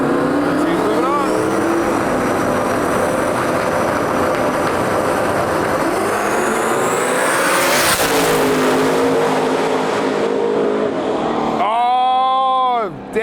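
Race cars, including a little S10 pickup, roar off the line side by side down a drag-style track, engines screaming loud and close with rising pitch, then fading as they pass, with another engine whining up at the end.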